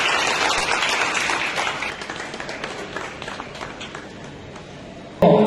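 An audience at a diamond merchants' gathering in Bhavnagar claps steadily in a dense, sustained round of applause that gradually thins before a sharp final burst.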